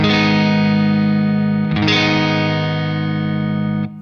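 Friedman BE-100D guitar amp played with the clean fat switch engaged, a sustained, full, slightly driven guitar chord ringing out loud and close, re-struck once midway, then cut off near the end.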